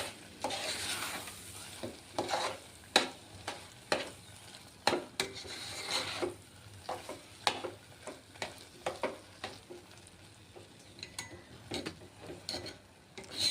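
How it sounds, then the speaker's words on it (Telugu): Dry fruits stirred into sweet potato halwa in a pan: a soft, repeated scraping of the spoon against the pot in short, irregular strokes, with a faint sizzle and no voices. "డ్రై ఫ్రూట్స్ స్వీట్ పొటాటో బాగా మిక్స్ అయ్యేటట్టు కలుపుకోవాలి"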